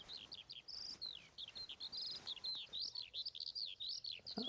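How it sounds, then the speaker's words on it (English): A skylark sings on open chalk downland on the Isle of Wight, a continuous high, warbling stream of rapid trills and chirps that runs unbroken from start to finish. "There's a lovely skylark there."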